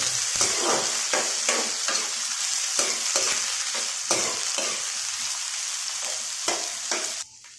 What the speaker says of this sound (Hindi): अच्छे से चला देंगे इसको।